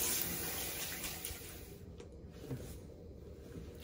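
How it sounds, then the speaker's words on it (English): Running tap water rinses a face after a straight-razor shave, a steady close hiss of flowing water that eases a little partway through, with no one speaking. "Alrighty, rinse off."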